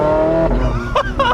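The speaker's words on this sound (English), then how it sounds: "now I can hear that glorious motor because the exhaust is right there and it sounds so good" A Porsche 918 Spyder's engine and exhaust sound close and loud, a sustained tonal drone with shifting pitch followed by sharp bursts as it revs, heard from inside the open-top car.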